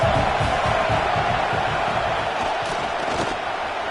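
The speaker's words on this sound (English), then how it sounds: "This crowd trying to make life miserable for this offense." A football stadium crowd roars and yells in a dense, continuous wall of noise that stays loud throughout, while a voice talks over it.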